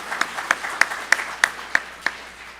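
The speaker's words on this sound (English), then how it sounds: "Hand clap for California." An audience claps in unison for California at a voter-rights event: seven sharp, evenly spaced hand claps, close and distinct, with a faint room hum between them.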